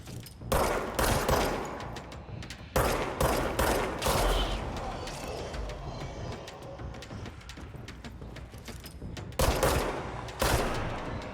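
Bursts of gunfire from the video game Control come in several loud volleys separated by quieter stretches of lingering reverb, with the heaviest clusters at the start and near the end.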